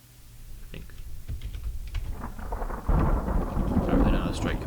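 Rumbling thunder from a lightning strike in a tornado mod video game, starting with scattered crackles then swelling into a louder continuous roll with rain-like hiss.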